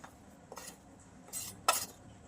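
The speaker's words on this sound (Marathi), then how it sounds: "हे सगळे मसाले आहे ना हलवून घेऊयात आता मस्त. कांद्याला लावून घेऊयात" Spices being stirred into chopped onion for onion paratha, a few short scraping and clinking strokes of a spoon against a pan, close and fairly quiet with brief gaps between them.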